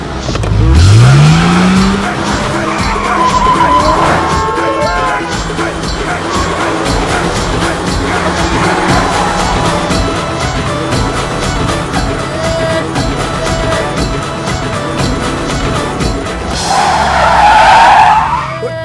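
Tires squeal as a car is driven hard and fast, loud long skids with a roaring engine across the whole stretch, swelling again near the end, and musical tones mixed in.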